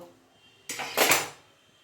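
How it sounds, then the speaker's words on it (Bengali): Fried peanuts, made for a banana-flower ghonto, tipped from the pan onto a metal plate: one short, bright clattering rattle of about half a second, close and alone in a quiet kitchen. "বাদাম ভাজা হয়ে গেছে, থালাটার মধ্যে নামিয়ে দিচ্ছি।"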